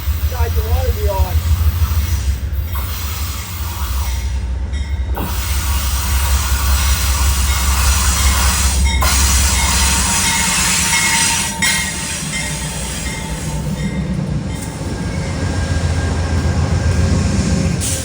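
Train 41 passing on the old B&O line in the Potomac Valley, a loud close rumble of wagons with rhythmic wheel clatter and occasional squeal, steady for the full length, with brief talk at the start.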